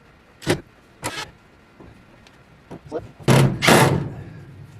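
Automatic chicken coop door, newly installed, runs open and then back down, giving a few short motor-and-thump bursts followed by a louder, longer whirring stretch near the end, close by.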